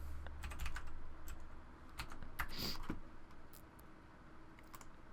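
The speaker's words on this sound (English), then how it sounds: "I'll type in Behr design." Quick bursts of keystrokes on a computer keyboard, close and fairly quiet, with uneven clicks and short pauses between a few words' worth of typing.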